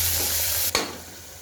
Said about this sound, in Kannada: ಸಣ್ಣಗೆ ಒಂದು ಈರುಳ್ಳಿ ಹಾಕಿ ಒಂದು ಸ್ವಲ್ಪ ಲೈಟಾಗಿ ಬಾಡಿಸ್ಬೇಕು